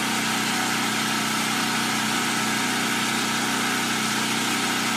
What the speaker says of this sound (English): this is actually a very quiet generator for the size and what it does